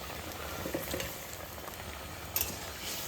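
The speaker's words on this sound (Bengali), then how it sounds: "এবার আমি মাছটা দিয়ে দেবো" Fish added to a hot pan fries with a steady, quiet sizzle, a soft crackle and a brief clink partway through, with no talking.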